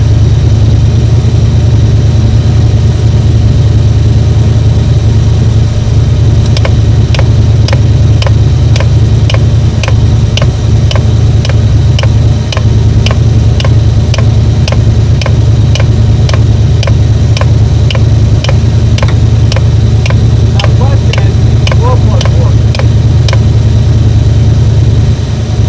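A 7.3 IDI diesel engine idles steadily and loud with a deep low rumble, joined after a few seconds by a rapid, regular ticking clatter that runs on throughout.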